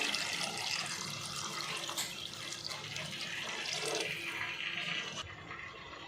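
Water pours steadily onto soaked tamarind in a vessel, a continuous close splashing and gushing that tapers off near the end.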